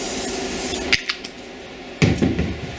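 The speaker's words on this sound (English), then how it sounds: "now we will grab some WD-40 and just give everything a light coat" WD-40 is sprayed onto LS engine cylinder head and block surfaces, with short hissing bursts close by, one just before the one-second mark and another around two seconds, over a steady background hiss.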